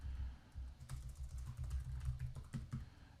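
Soft, rapid keystrokes clatter on a computer keyboard during a coding session, quiet close taps in uneven bursts with short pauses between them.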